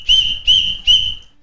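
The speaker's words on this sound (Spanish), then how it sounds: "Los agentes también podrán usar un silbato para decirte ¡para!" A traffic police whistle gives three short, frequent shrill blasts in quick succession, loud and close, signalling a stop.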